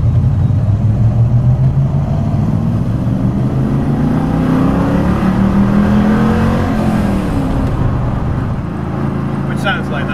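A 1971 De Tomaso Pantera sports car engine rumbles loud and close, its pitch rising and falling through several revs before easing off.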